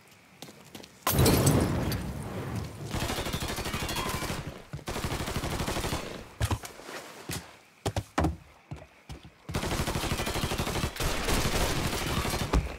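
Sustained, loud automatic gunfire in the crime game Mafia 3 comes in long dense bursts separated by brief pauses, with a short stretch of scattered single shots before another heavy burst.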